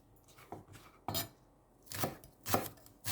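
Spring onion chopped finely with a knife on a board, several close, crisp chopping strokes in uneven bursts with short pauses between, no voices.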